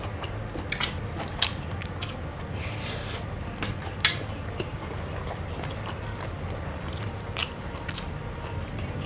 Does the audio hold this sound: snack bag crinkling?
no